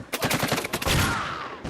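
Rapid bursts of automatic gunfire crack in a film shootout as gunmen storm a building, loud and close, followed by a ringing tail.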